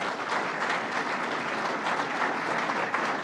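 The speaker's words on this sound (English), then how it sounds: "Let's give a round of applause to Bill." An audience at Albany International Airport breaks into sustained applause, dense clapping holding steady and loud for several seconds without any speech.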